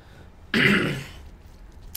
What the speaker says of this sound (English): Sorry, got a cough.